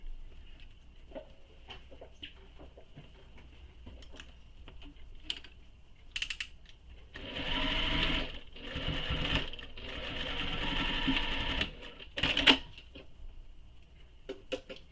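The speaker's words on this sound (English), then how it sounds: "go ahead and sew this with the seam allowance given in the pattern" A sewing machine stitches a handbag seam in two sustained bursts of fast mechanical whirring, close and clear, with quieter clicks and handling noises between the runs.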